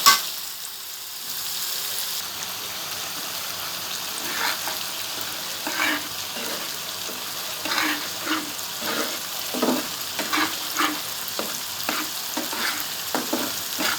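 Pointed gourd puree fries and sizzles in a pan, with a steady crackling hiss under a run of distinct scraping stirs that repeat through the second half.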